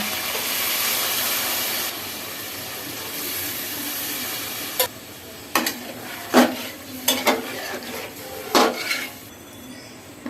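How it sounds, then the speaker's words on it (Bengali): Snakehead fish curry sizzles steadily in a pan, then several sharp clinks and scrapes of a utensil against the pan follow as water is poured in, with no talk. "মাছ কষানো হয়ে গেছে এবার পানি দিচ্ছি"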